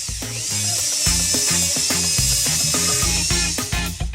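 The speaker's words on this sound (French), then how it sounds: "Et si on l'essayait avec la perceuse?" A power drill is run against a cola bottle in a bid to force it open, whirring steadily and loudly for several seconds with a rapid pulsing, grinding rhythm and no pauses.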